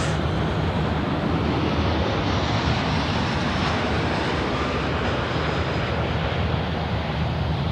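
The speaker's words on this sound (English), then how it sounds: "Fab about to land now. Fiji Airways, the 738 MAX." A Fiji Airways Boeing 737 MAX 8 coming in to land, a loud, continuous broadband jet roar that holds steady throughout, with no voices heard.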